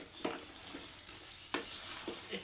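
Coconut and taro leaf curry being stirred in a pan, with a steady low sizzle and a few sharp scrapes of the spoon against the pan, close and fairly quiet, no talking.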